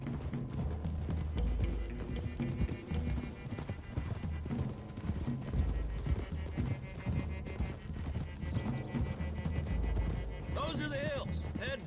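Horses gallop in Red Dead Redemption 2 with a steady clip-clop of hooves, a few neighs and whinnies, and game music under it. A voice speaks over the hoofbeats throughout.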